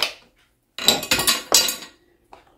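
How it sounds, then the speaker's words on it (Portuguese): A small spoon drops onto a kitchen surface during cake baking with a mini cake machine, giving a few bright metallic clinks and rattles in two quick bursts, close and fairly loud, then a faint tap. "Opa, caiu a colherzinha ali."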